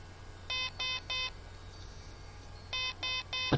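A wristwatch answers a button press with two quick sets of three short electronic beeps, the sets separated by a pause, faint and close over a quiet background hum.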